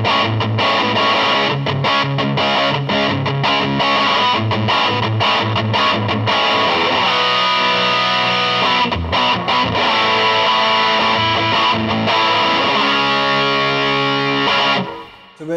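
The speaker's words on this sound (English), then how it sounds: "So this is the Providence Stampede DT. I'm guessing this is a straight up distortion pedal." Electric guitar played through a Providence Stampede DT distortion pedal, a loud, dense overdriven tone with chugging rhythmic chords and sustained ringing notes running continuously for about fifteen seconds before cutting off.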